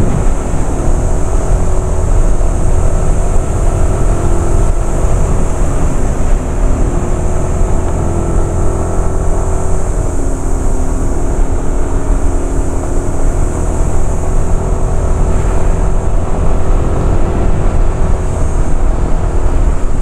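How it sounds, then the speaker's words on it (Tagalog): A 2025 Yamaha NMAX Techmax scooter engine drones steadily throughout a ride, with a continuous rumble and a slowly wavering tone, loud and close, mixed with wind noise and no talking. "Narinig niyo yung yung palo ng engine."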